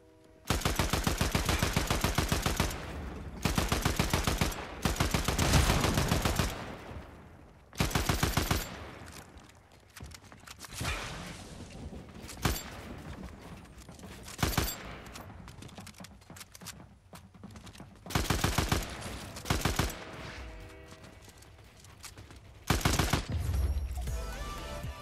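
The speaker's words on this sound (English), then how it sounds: "I think I was shooting. The shotgun." Rapid bursts of Fortnite gunfire, including shotgun blasts, come in loud repeated volleys separated by short quieter gaps, with sharp isolated shots scattered between the longer strings of fire.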